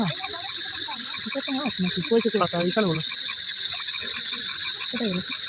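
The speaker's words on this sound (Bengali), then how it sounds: "চারিদিকে ঝিঝি পোকার ডাক" Dense, continuous high-pitched cricket chirring fills the night background during night fishing, while someone speaks briefly over it.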